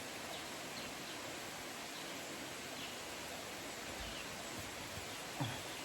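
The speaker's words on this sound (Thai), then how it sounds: "ได้ยินเสียงน้ำไหลตามธรรมชาติเนี่ยรู้สึกว่าผมแบบ ผ่อนคลายนะ" Natural water flowing steadily near a temple, a continuous broadband rush that stays even and close, alone without any talking.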